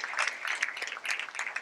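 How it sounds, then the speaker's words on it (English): Brief, warm round of audience applause in a mosque hall right after an auction item sells, a dense patter of many hands clapping steadily for about a second and a half at moderate volume. "Let's give them a warm round of applause."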